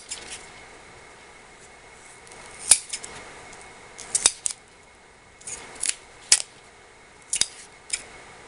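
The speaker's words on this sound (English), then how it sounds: "if you cut it a little too big, now you trim." Scissors trimming excess arrowhead material, heard as a series of sharp, close snips spaced irregularly over a faint steady background hiss.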